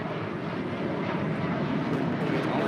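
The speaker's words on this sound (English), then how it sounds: "That is JetBlue 324 departing to JFK on a freshly minted A321." JetBlue Airbus A321 jet departing from LAX, a steady broad roar of engine noise heard from a distance, fairly even in loudness and without talk.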